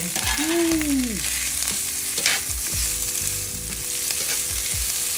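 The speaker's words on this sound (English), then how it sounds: "You hear that sizzle?" Steak searing in a hot frying pan for fajitas, giving a steady, close broadband sizzle throughout, with a few brief clinks and shifts of the pan beneath the hiss.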